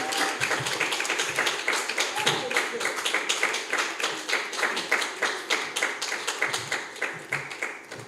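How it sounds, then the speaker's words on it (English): Lecture audience claps after an annual talk on the Black Atlantic; the clapping falls into a steady rhythmic beat, moderately loud and sustained throughout. "We can't stop the applause yet, and I know we are applauding where we are."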